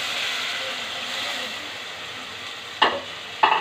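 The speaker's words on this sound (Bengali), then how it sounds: "এখন মশলাটাকে আমি ভালো করে ভেজে নিয়েছি। দিয়ে দিব মাছটা।" Snakehead fish goes into spices frying in a pan, giving a steady close sizzle punctuated by two short sharp bursts of hissing and clattering near the end.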